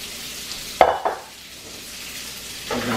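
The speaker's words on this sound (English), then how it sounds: "empty our hot water out" Hot pasta water poured out of a pan while making spaghetti carbonara: a sharp clink, then a short splashing gush and a fainter second knock, followed by a quiet lull and a soft rushing hiss at the end.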